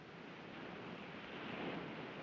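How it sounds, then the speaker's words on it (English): Ocean waves sound as a soft, steady rushing roar of surf, faint and distant, that swells slightly toward the end with no voices. "You like the sound of the ocean?"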